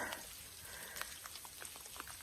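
Rain falls in cold weather on a mountain hiking trail near the tree line, a faint steady patter with scattered drops tapping close by, with no voices.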